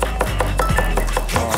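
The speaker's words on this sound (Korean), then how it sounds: "벌써 칼질하다니" A chef chops food with a knife on a cutting board while cooking Korean-style short rib patties, a steady series of close, crisp knife strikes about five per second.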